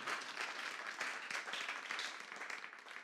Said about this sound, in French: Can we clap up for the Lord?